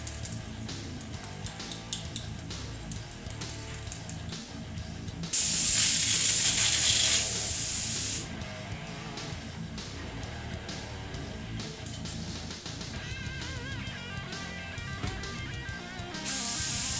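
An airbrush sprays in sharp, loud bursts of hissing air during a quick cleaning, one long blast of about three seconds and a second starting near the end, with quiet clicks and handling noises between.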